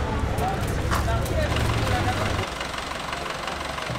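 A tractor engine idles nearby on a road near Mont Ventoux, a low, steady rumbling throb that drops in level partway through, with wind and traffic-like noise around it and no voices.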